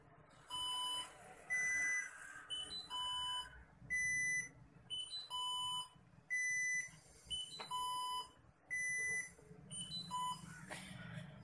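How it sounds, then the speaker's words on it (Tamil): A small speaker driven by an Arduino Uno beeps in repeating tonal patterns, a pair of slower tones then quicker ones, cycling steadily at moderate volume. "பீப் ஆகுது"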